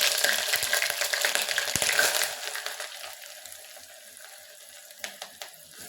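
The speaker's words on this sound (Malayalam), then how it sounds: "കടുകിട്ട് പൊട്ടിയതിന് ശേഷം ഞാൻ വെളുത്തുള്ളി ഇഞ്ചി സവോള എല്ലാം കൂടെ വഴറ്റാനായിട്ട്" Garlic, ginger and onion sauté in a pan after mustard seeds have popped. A loud, steady sizzle with stirring scrapes fills the first couple of seconds, then drops to a quieter, fading fry.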